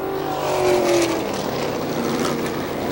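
Race cars at Star Speedway in New Hampshire roaring down the front straightaway, a loud, continuous engine drone that swells and fades slightly as the pack passes, with no talking.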